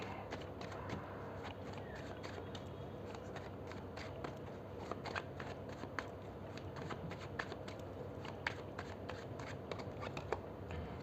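Tarot cards are shuffled and drawn in quick papery riffles and flicks, a steady run of close, soft crisp snaps over about eleven seconds with faint room noise.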